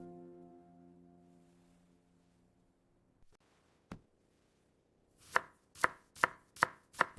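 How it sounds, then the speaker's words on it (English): Food is chopped with a knife on a board, with five crisp, evenly spaced chops up close after a fading tone and a couple of isolated knocks. "She was chopping onions carefully."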